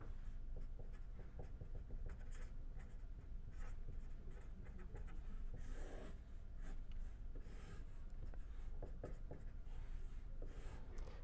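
Marker or chalk scratching across a board while a table of component pressures is drawn out, a steady run of short scrapes and taps at close range with no talking.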